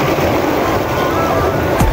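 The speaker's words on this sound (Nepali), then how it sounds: "समुद्रको छाल है" Sea waves washing ashore near Kuwait, a steady broadband wash of surf with a swelling surge near the end, close and fairly loud, with no talking over it.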